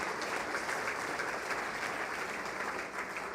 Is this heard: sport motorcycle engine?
no